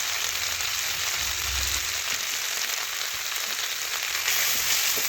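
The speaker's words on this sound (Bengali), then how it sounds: "দেখুন জল দিয়ে একটু ভেজে নিচ্ছি মশলা" Tomato with turmeric and chili powder, loosened with a splash of water, frying in a pan: a steady, soft sizzle running throughout with light stirring, no talk.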